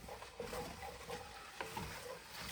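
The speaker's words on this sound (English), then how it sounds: "Scrape all that brown bits off the bottom, the fond." A utensil scrapes browned bits off the bottom of a pot in rendered pork fat while making red beans and rice, giving faint, soft scratchy strokes over a quiet sizzle.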